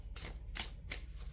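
Three quick riffling bursts as a deck of Oracle cards is shuffled, close and fairly soft, with pauses between each riffle.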